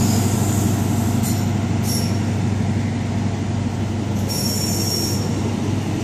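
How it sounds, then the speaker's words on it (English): A CrossCountry HST passes through Tiverton Parkway station on the Great Western Main Line with a loud, steady rail rumble and sharp squeals of wheels on track, heard close and continuous throughout. "Always nice to finish off with a cross country HST guys."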